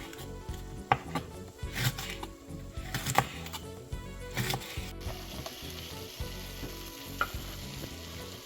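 Beef tibs frying with onion and chili peppers in a hot pan, a loud steady sizzle punctuated by rhythmic spatula scrapes and knocks against the pan, the hiss brightening sharply midway.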